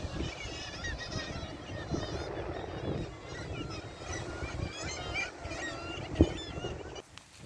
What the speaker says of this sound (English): Wow, look at all them nesting birds. I don't know if they're seagulls or what they are.